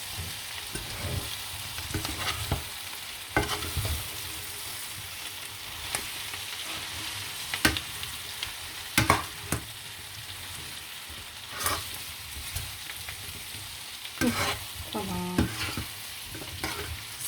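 Food poured into a frying pan and stirred together makes a steady sizzle under repeated scraping and clattering of the utensil against the pan. The stirring comes in irregular bursts, close and clear, with no talk.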